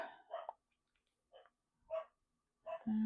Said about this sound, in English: You might hear Daisy the Cocker Spaniel barking in the background here.